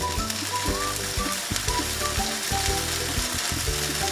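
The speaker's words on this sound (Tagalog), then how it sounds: "Igisa natin." Sardines sauté in a pan for pancit bihon, a steady close sizzle and crackle with occasional clinks and scraping of a utensil against the pan, with no talking.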